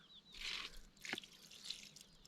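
Water trickles and splashes softly as it is poured into a carp fishing bait mix, close and quiet, with a few drips.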